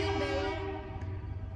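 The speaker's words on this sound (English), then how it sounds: "There goes another train." A passing train sounds its horn in a long, steady, loud blast that eases off slightly toward the end, with rumbling rail noise underneath.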